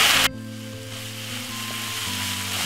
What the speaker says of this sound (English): it's gonna be burning off the meat about 5 to 6 minutes